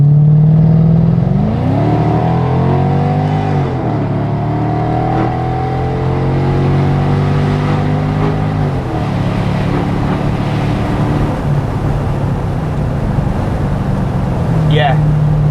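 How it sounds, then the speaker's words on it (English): A Mercedes-Benz SL500 (R230) convertible's engine revs and accelerates through the gears, its pitch climbing and dropping, loud and steady throughout with a low rumble. "Let's go for a drive. Let's get a little acceleration in,"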